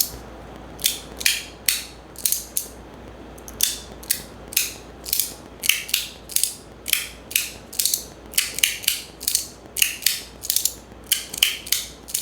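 Repeated ratcheting clicks from a small 3D-printed Verkk mechanism, crisp sharp ticks in quick irregular bursts, close to the microphone against a quiet background.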